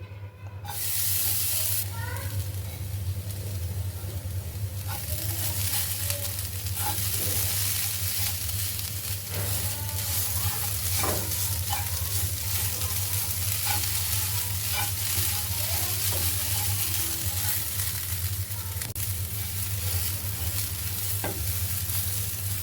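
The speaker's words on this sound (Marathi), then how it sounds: "त्याच पॅनमध्ये आता आपण खोबरं भाजायचं आहे" Grated coconut roasting in a frying pan, stirred continuously: a loud, steady sizzle runs throughout, broken by repeated scraping strokes of the spoon, with no talking.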